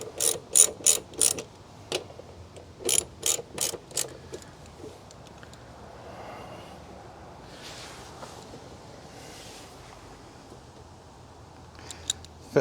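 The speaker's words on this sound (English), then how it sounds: "So a wrench, tighten up these." A ratchet wrench with an 11 mm socket tightens mud flap bolts on a Tesla Model 3. It gives several loud, close bursts of fast clicking in the first few seconds, then quieter handling noise and faint wind.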